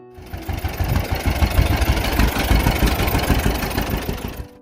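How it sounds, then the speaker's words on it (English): A two-cylinder John Deere Model B tractor engine runs with a deep, steady, rhythmic popping that holds at an even loudness throughout, with no talk. "There's a sound that every farmer in the Midwest knows by heart, a deep, steady pop pop pop rolling across open fields at dawn."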